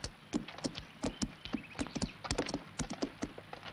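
Horse hooves clip-clopping on hard ground, a brisk uneven run of close, distinct hoofbeats with no talk.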